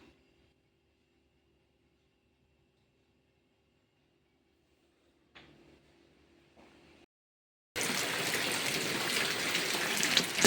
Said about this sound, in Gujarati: વરસાદ વરસાદ